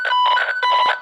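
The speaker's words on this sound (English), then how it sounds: "That'll mean that your audible tone now is an alternating tone, so it'll sound something like this." A Fluke Pro3000 tone generator sounds an alternating two-pitch electronic tone. The beeps switch quickly back and forth between a higher and lower note, loud and close, with no voices.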